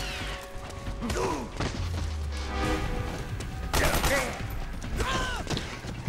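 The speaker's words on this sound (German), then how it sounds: "Ich glaube, ich habe keine andere Wahl, als zu schießen." Gunfire bursts and thuds from the stealth action game Metal Gear Solid 4, several shots and impacts spread over a few seconds amid game sounds and music-like tones, loud and close.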